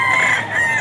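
A gamefowl rooster, a bullstag, crows in one sustained, loud cock-a-doodle-doo close by, with no other sounds around it.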